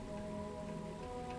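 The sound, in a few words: rain falling in the video game Starfield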